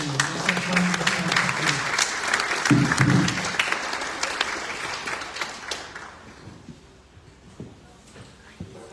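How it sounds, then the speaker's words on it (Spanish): Audience applause at an architecture school presentation of design workshops, a dense crowd clapping steadily for several seconds and then thinning out and fading to scattered claps. "les damos también un aplauso"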